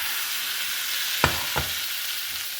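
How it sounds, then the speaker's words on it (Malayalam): Half a kilo of chopped liver goes into a hot pan, and a steady, bright sizzle of frying runs throughout, broken by two sharp knocks as the pieces land close by. "അതിൽ നുറുക്കി വെച്ച 1/2 കിലോ ലിവർ അതിനകത്തേക്ക് പാനിലേക്ക് ആഡ് ചെയ്ത് കൊടുക്കണം."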